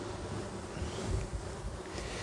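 Honey bees buzz steadily around an open hive during a late-season colony check, a dense continuous hum close to the microphone with some wind noise and no talking.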